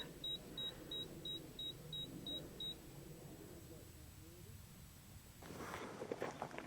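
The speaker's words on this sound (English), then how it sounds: "It's beeping out the altimeter, the altitude from the last flight." A model rocket altimeter beeps out its recorded altitude: about ten short, evenly spaced electronic beeps, clear and moderately loud over faint outdoor background noise, followed by a rustling burst near the end.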